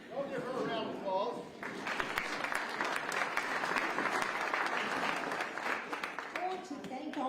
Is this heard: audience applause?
yes